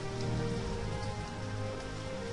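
Minecraft rain hisses in a thick, unbroken wash of drops, steady and fairly loud in the background from start to finish, with no talking or other sounds breaking through.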